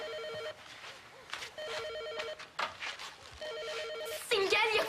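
A telephone rings in three repeated bursts of a steady electronic double tone, moderately loud, with people talking between and over the rings in an indoor domestic scene.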